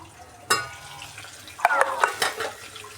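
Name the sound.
stirring and frying spices with tomato in pan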